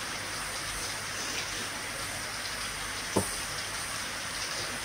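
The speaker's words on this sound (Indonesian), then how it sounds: "gerimis dari pagi" Light drizzle falls steadily throughout, a soft, even hiss of fine rain with no other activity except one brief tap a little past the three-second mark.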